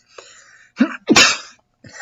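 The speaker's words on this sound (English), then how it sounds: "hold on, I'm going to sneeze." A single person sneezes sharply and close up, with a short intake of breath before the loud burst and a brief exhale afterward.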